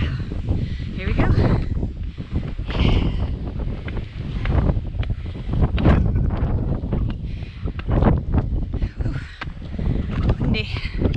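Strong, gusty wind buffets the microphone on an Adirondack mountain hike up Cascade and Porter, roaring in uneven surges throughout.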